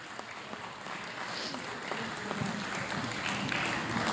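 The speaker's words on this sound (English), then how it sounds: "Let's have a round of applause for these AMCC individual peak performers." Applause fills an athletics recognition ceremony at Penn State Altoona for individual peak performers, a crowd clapping steadily with scattered distinct claps standing out and a faint murmur of voices underneath.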